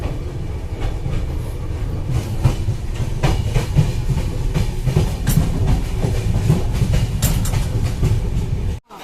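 The 12345 Saraighat Express from Howrah to Guwahati runs along the rails with a loud, continuous rumble and rhythmic clickety-clack that stays close and steady before cutting off abruptly.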